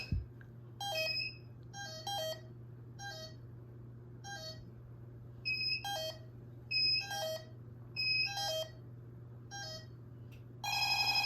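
Radionics D7412G security system audible alarm bell sounding after a 30-second entry delay, loud repeated electronic ringing bursts in an uneven pattern over a steady low hum, ending in a continuous tone.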